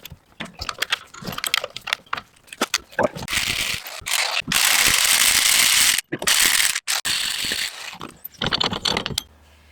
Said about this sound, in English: Breaker bar.